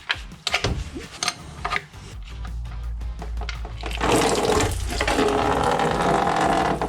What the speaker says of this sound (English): let's get this oil drained out